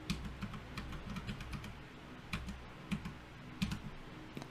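A Wi-Fi password being typed on a computer keyboard: a quiet run of rapid, light key clicks in uneven bursts with short pauses, close and alone without any voice.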